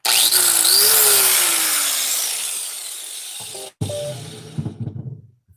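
Power grinder grinding metal on a hot rod, a loud, steady high-pitched whine that slowly falls in pitch, then cuts out and is followed by scattered clanks and rattles.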